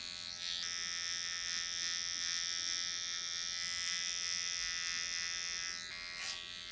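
Electric hair clippers taper a haircut, giving a continuous close, steady buzz for several seconds with a slight change in tone near the end as the blade shifts against the hair.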